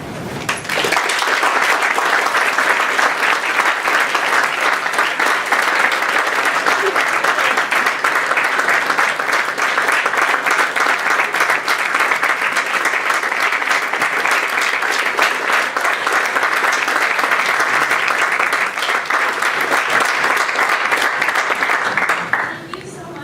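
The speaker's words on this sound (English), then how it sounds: "Can you have another round of applause?" An audience applauds after a lecture, dense continuous clapping from a large crowd sustained for over twenty seconds, loud and close, then cutting off abruptly at the end.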